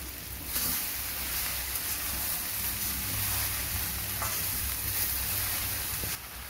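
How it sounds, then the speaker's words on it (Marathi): Okra stir-fry with salt and turmeric being stirred in a pan over low gas: a steady, dense sizzle fills the whole stretch, with faint scraping stirs inside it. "आणि फिरून घेणार आहे आणि कमी गॅसवरती बनवणार आहे"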